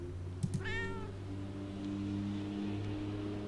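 A single close meow from a cat in the Tokyo Dark game, rising then falling, with a couple of sharp clicks just before and a low steady hum underneath.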